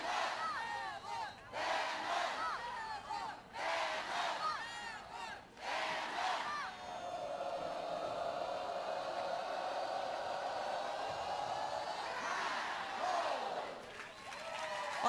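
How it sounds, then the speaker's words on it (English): Alabama softball crowd at the NCAA Tuscaloosa Regional roaring and cheering on its feet before a possible final out, a loud sustained mass of shouts and yells with a few brief lulls, swelling again near the end. "This passionate, energetic, fiery Alabama crowd on its feet for what they're hoping is the final out of the Tuscaloosa Regional."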